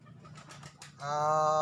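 Pigeons in a dovecote colony: a soft, rustling stretch gives way to a loud, sustained, steady call in the second half, close to the listener with no talk.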